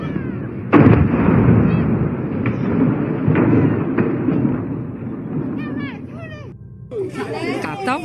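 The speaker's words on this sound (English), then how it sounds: "one massive fragment exploded in a fiery blaze upon hitting a forest" A massive rocket fragment explodes in a fiery blaze on hitting a forest, giving a sharp loud blast followed by a sustained roaring rumble, with people's voices chattering and exclaiming toward the end.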